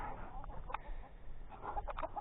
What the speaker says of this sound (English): Shut up, you silly birds. Chickens.